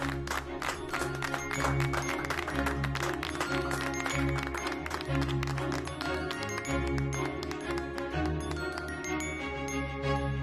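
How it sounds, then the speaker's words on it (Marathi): An audience applauds at a bank's employee-of-the-quarter award presentation, with dense, steady clapping that blends with tinkling music throughout. "टाळ्या."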